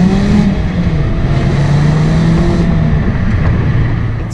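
A Mazda MX-5 ND sports car, 100th Anniversary edition, produces a loud, steady engine drone heard from inside the car, with the pitch drifting slightly as revs hold and ease. No voices are heard.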